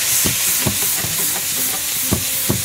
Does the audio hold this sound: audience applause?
no